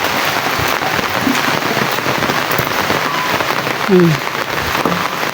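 Steady rain patters on surfaces all around, a dense continuous hiss with scattered drips, while a voice briefly murmurs partway through.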